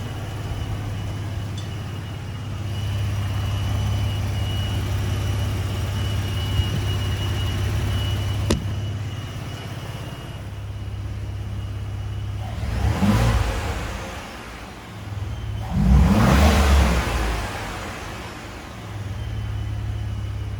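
A 2022 Ford 3.5 EcoBoost truck with upgraded turbos idles with a low steady rumble, then gives two short revs that swell and fall back, heard up close in an enclosed space.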